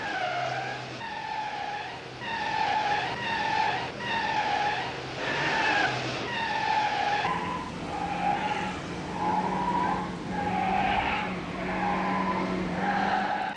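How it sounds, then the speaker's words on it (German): A 1970 Volkswagen K70 weaving at 130 km/h, its tires squealing in loud, close, rhythmic bursts that rise and fall with each swerve, steady road and engine noise beneath, no talking. "Wedeln bei 130 Kilometern pro Stunde."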